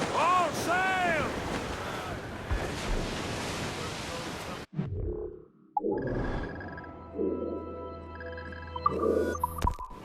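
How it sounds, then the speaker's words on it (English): A rough squall at sea in Assassin's Creed Rogue: loud rushing wind and crashing waves, then a sudden drop and creaking ship noises with clanks, as crew voices call out over the storm. "Quite a rough squall, Cap."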